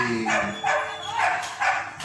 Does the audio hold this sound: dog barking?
yes